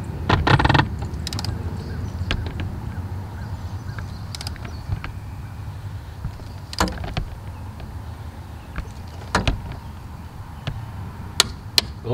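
A torque wrench set to 23 foot-pounds tightens a part during a fuel filter change on a 2017 RAM 2500 with a 6.7 Cummins, giving a few sharp, isolated clicks over a low steady background hum.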